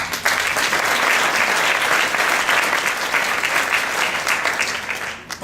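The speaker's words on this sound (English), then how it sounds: "Let's give them a round of applause." A conference audience applauds the event board at the opening address of a Seattle HR gathering. Sustained, even clapping from a sizable crowd fades slightly toward the end.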